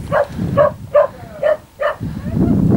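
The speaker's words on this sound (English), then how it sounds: "As if you could hear that over that dog yapping." A small dog yaps five times in a quick, evenly spaced series, close and loud, on Moel Famau, followed by a burst of rustling noise.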